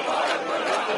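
A large protest crowd in Cairo's Liberation Square sings and chants, a dense sustained roar of many voices blending together, loud and continuous throughout.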